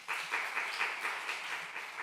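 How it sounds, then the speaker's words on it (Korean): A church congregation at a Sunday youth service gives a short burst of steady applause, many hands clapping together at moderate distance for about two seconds. "박수 한번 주십시오"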